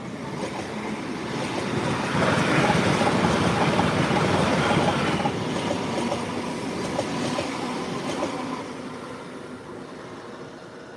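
A TransPennine train rolls past on the track, a broad rumbling roar that swells to a loud peak and then slowly fades as it moves away, with faint rhythmic wheel clatter.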